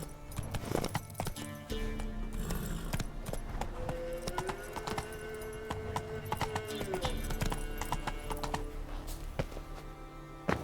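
Roach the horse trots in The Witcher 3, hooves clip-clopping in a quick, steady rhythm with sharp taps on the ground, alongside low background ambience and a brief snort.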